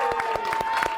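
A crowd cheers and claps at the start of a hike on Mount Sanitas, a burst of scattered handclaps and voices over a steady tone, fairly near and moderately loud.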